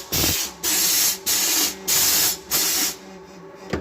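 A 1957 Hydrovane air compressor runs with a loud, close hissing rush of air in five regular bursts separated by brief pauses, heard alone without talking.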